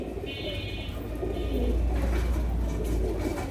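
Pigeons coo amid a steady low hum and broad background noise, moderately loud and continuous. They are a pair of pigeons, a male and female of high-quality breed, kept for long-distance racing or for their looks.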